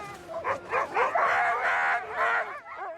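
A sled dog team on Arctic sea ice near the North Pole gives close, excited yips, whines and barks in rapid overlapping bursts.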